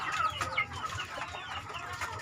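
Young hens clucking in a backyard chicken coop, a steady run of soft overlapping clucks and calls from several birds close by, with no talk.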